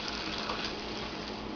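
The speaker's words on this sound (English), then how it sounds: "I just add about 2 fingers filled with water." Water poured into a cooking pot of escarole for Italian minestra, a steady close splashing pour filling it about two fingers deep, with no talking.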